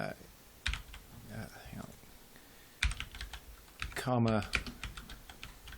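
Keys clatter on a computer keyboard in bursts of quick typing, close by, while someone talks over and between the keystrokes.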